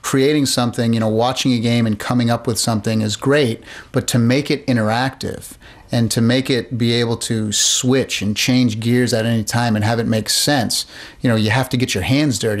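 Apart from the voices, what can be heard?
No distinct noise like a dog, phone or traffic.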